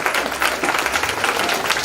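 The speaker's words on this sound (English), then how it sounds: "Let's give them a clap." Dense, even clapping from an audience at a primary school grade 4 meeting, applauding pupils who performed, loud and continuous for the whole short stretch.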